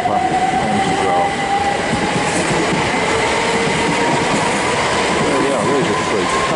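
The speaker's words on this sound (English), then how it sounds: "There we are, there's a couple of trains." A train rumbles and rattles loudly close by, a continuous heavy clatter with a thin metallic squeal running through it.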